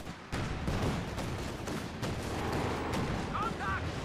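A field gun fires in a Company of Heroes 2 battle, with repeated sharp booming shots over a dense layer of battlefield noise and scattered gunfire.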